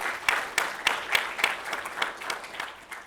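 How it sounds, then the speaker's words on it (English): An audience at an evening inaugural lecture on sustainability in the built environment claps steadily for about three seconds, a moderately loud, even round of applause with no voices over it. "So again, round of applause."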